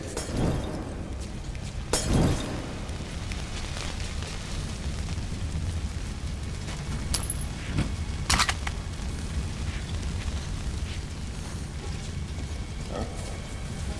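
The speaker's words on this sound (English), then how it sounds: "Throwing incendiary! Look out! Incendiary!" Incendiary grenade bursting in Metro Last Light, sharp glassy shatters with crackling fire and booming impacts, several separate cracks over a rumbling background of combat noise.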